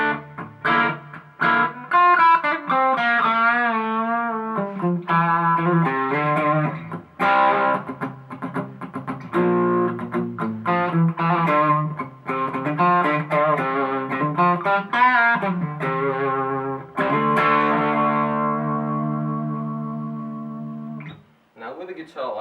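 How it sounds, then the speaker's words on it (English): Silvertone Paul Stanley Apocalypse electric guitar on the back pickup with tone and volume full up, played through distortion: loud, sustained, gritty chords and single notes ringing continuously, ending in a brief decay. "Now, I'll give it some distortion."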